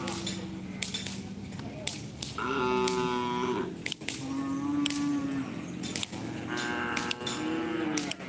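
Cattle at a Karapan Sapi bull race in Pamekasan bellow in long, drawn-out moos several times amid a busy crowd, with people talking throughout.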